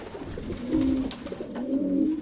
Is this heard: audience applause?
no